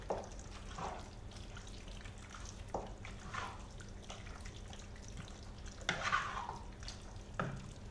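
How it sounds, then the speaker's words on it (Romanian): Onion and mushroom stew being stirred in a pot, giving intermittent scraping and wet sloshing strokes at close range over a steady low simmering background, with no voices. "Și amestecăm bine."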